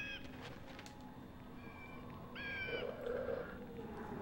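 A cat meows in the Legacy of Kain: Blood Omen 2 video game, a couple of short rising meows over a low in-game ambient bed, fairly faint and without talk.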